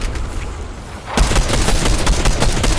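Gunfire in the video game Fortnite, a rapid burst of loud sharp shots starting abruptly about a second in after quieter ambience, continuing in a fast rattling series.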